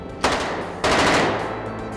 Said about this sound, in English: The Thompson, the Tommy gun, this is the most iconic kind of weapon of that era.